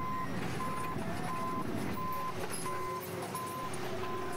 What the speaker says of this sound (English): the rock crusher just drives straight over it, as you can see here